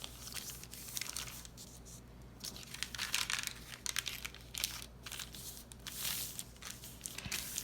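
Handmade wrapping paper crinkles and rustles in irregular bursts as it is folded over a small art card, close and fairly loud, with brief quiet gaps between handling sounds.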